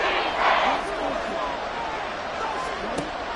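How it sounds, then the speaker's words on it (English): A football stadium crowd roars and cheers steadily before a third-and-goal play, a broad distant wash of voices with a few sharp shouts, under a commentator's voice. "This crowd doing all they can."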